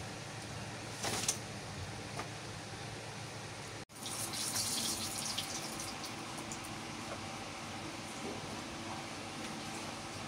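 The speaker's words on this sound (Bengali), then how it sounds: "গরম পানি গুলো দিয়ে দিই" Hot water poured into a pot of beef curry with pumpkin: a steady, quiet gushing pour runs throughout, with a brief break near the middle before it resumes.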